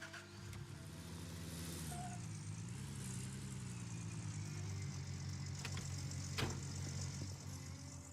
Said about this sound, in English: Come on, turn the engine back on.